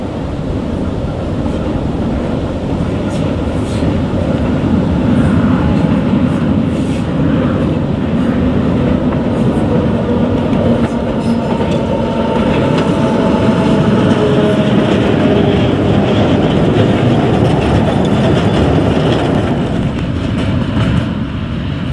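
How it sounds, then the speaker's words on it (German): An empty narrow-gauge field railway train from a soda works rolls steadily into a loading point, a continuous loud rumble of wagons and wheel clatter lasting throughout. "Ein Leerzug vom Sodawerk erreicht die Ladestelle."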